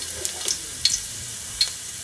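Garlic sizzles in hot olive oil in a pot on the stove, a close, steady crackling hiss with a few sharp pops and stirring clicks.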